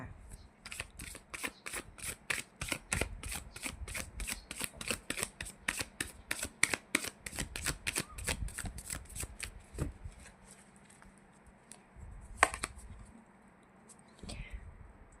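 Tarot cards are handled at close range: about ten seconds of quick, rhythmic shuffling and flicking, then a few softer slides and snaps as a card is drawn, all fairly quiet.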